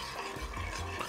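Dry ingredients, seasoning with sugar and salt, being mixed in a bowl with quiet, soft scraping and shuffling strokes.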